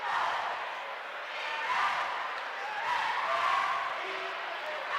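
Large crowd murmuring and stirring at a high school basketball district championship game, Hampton Crabbers versus Kecoughtan Warriors, a steady broad roar of many voices without clear cheers.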